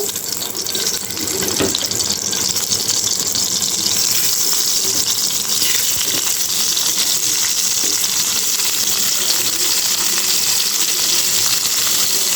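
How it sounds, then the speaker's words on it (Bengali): Hilsa fish fries in a pan of hot oil that had just been used for frying aubergine, a loud, continuous close-up sizzle and hiss that holds steady throughout with no voices. "এটার মধ্যে আমি মাছটা ভেজে নিব"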